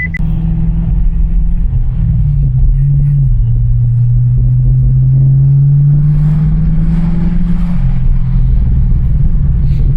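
An LS-engine car runs without mufflers, a loud, deep idling rumble close by with a brief rev that rises and settles, alone throughout.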